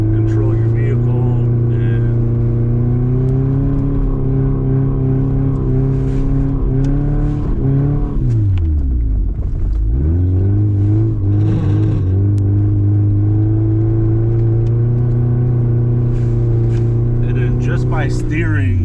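A Subaru drifting in snow holds a loud, sustained engine drone that rises and falls as the revs change, dipping sharply mid-way before climbing again, with a voice talking over it.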